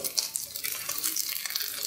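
Young carrots, small potatoes and little onions sizzle gently in a casserole, a soft, faint, steady crackle with tiny pops, close up and heard alone.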